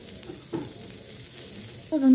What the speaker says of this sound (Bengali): কিছুক্ষণ ভাজার পর আমরা এর মধ্যে ক্যাপসিকাম দিয়ে দিলাম,